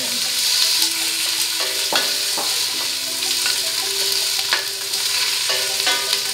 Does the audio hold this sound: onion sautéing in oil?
yes